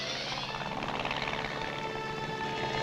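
Military helicopter in flight over a battlefield, a continuous rotor thrum with beating chop and engine whine, moderately distant and steady, with no voices.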